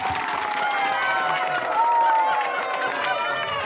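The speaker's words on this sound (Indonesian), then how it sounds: "Beri tepuk tangan untuk kita semua." A class of sixth-grade schoolchildren applauding, a dense wash of clapping and excited cheering with children's voices shouting over it, steady and fairly close.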